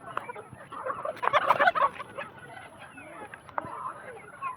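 Poultry at a shop selling chicks and grown birds, a busy mix of clucks and gobble-like calls swelling in the middle, with faint voices murmuring underneath.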